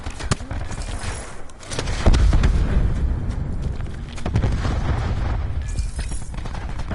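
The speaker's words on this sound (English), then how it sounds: "Probably like throw my grenade." Grenade explosion in Black Ops 4: a deep boom bursts in at about two seconds, and rumbling debris and distant shots continue at a loud, steady level afterward.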